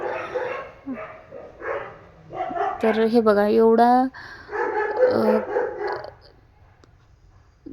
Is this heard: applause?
no